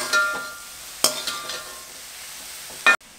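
Vegetables are sautéed in a pan for egg noodles with a soft frying sizzle, a few sharp scrapes and clinks of the stirring utensil, close by, and no talking.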